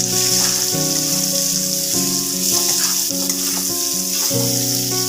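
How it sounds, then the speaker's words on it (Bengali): Fried bitter gourd pieces stirred in a pan of hot oil with spices, a loud, dense sizzle broken by repeated scraping strokes of a spatula, close and continuous with no voices. "আমি এই ভেজে রাখা উচ্ছেগুলো আমি দিয়ে দিলাম, দিয়ে ভালোভাবে এটাকে নাড়াচাড়া করব।"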